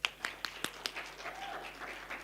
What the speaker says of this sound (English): Let's clap hands for this occasion.